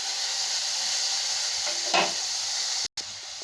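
Tomatoes sauté in a pan with a constant hissing sizzle, one brief stirring scrape midway and a short dropout near the end.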